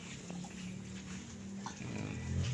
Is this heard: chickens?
no